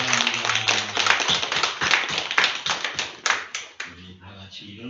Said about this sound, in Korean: 말씀으로 사시는데 우리 박수 한번 하겠습니다